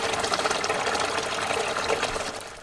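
Water running out of a pipe by gravity on an off-grid homestead, a steady gushing and splashing that eases off slightly toward the end.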